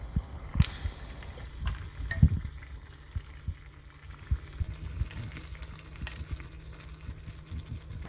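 Broth with clams and soft tofu coming to a boil in a pot, a low bubbling simmer with small irregular pops and bursts, fairly quiet and steady throughout.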